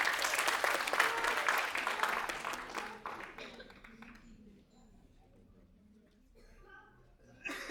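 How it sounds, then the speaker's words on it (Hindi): Loud audience applause fills a Hindi-language public event honouring a speaker from a cultural training centre, a dense steady clatter of many hands that fades out around three seconds, leaving a quiet room with faint murmurs before a brief rise at the end. "एक बार जोरदार तालियां महोदय के लिए"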